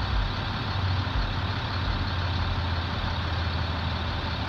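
A truck with a Cat 7.2 engine runs steadily nearby, a continuous low diesel rumble that holds even and fairly loud throughout with no speech.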